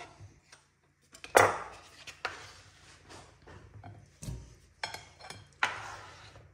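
A knife cutting vegetables for a Diplomat salad, heard as a few sharp, irregular knocks and clinks on a board and bowl, close and without talk.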